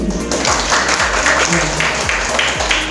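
An audience at a national student scientific paper competition claps steadily for three seconds, a dense, even wash of applause with no talk.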